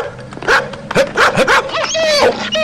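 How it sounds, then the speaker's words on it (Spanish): A family dog barks loudly and repeatedly at close range, sharp barks in quick succession followed by higher yips and whines, with no talking over it. "¿No estás oyendo al perro?"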